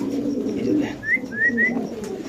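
A pair of pigeons, male and female, coo in a low, murmuring stretch lasting a couple of seconds, close by, with a few higher chirps from other birds mixed in.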